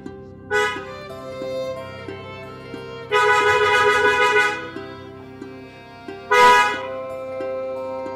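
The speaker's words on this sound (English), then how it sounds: "I'm honking and you're still walking." Car horn honks in three separate blasts, loud and close, with a steady engine or background tone between them and no talking.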